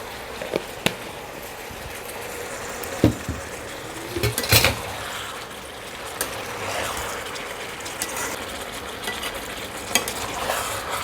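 Chicken frying in a pan with salt just added sizzles steadily while a spoon stirs it, with scattered scrapes and clinks against the pan over the constant hiss.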